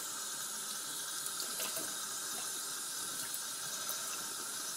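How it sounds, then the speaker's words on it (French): Cold tap water runs steadily over new tights being rinsed in a sink, a soft continuous splashing stream at moderate distance with no talk. "je vais pouvoir les passer sous l'eau froide"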